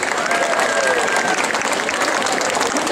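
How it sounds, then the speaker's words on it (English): A large crowd applauds sponsors at a charity walk's opening ceremony at Disneyland. The clapping is loud and dense and keeps a steady wash for the whole stretch, with some tonal sounds rising faintly above the applause. "So please join us in applauding all of our outstanding sponsors."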